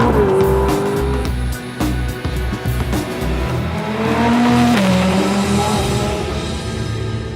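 A Ferrari 458 Speciale driven hard on a race track, its engine loud and close, revving up and down through gear changes with brief tire squeal, continuous throughout.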